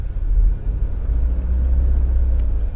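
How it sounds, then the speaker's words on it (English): A car engine runs loud and rough, a steady low rumble close by that holds through the whole stretch with no talk over it. "I know this car sounds really loud and rough"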